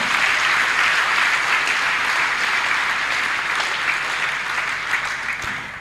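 A church congregation claps and cheers for the whole stretch, a dense, loud, even wash of applause close around the listener that holds steady throughout and ends with a brief knock.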